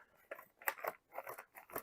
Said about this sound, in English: I think I have to get some scissors to open this thing.